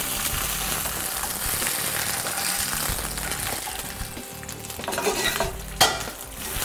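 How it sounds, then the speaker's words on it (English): Sesame-crusted tuna sears in a hot pan with a steady, loud sizzle and frying crackle throughout, stirring scrapes mixed in and a sharp clink near the end. "We're already getting a nice sear on there."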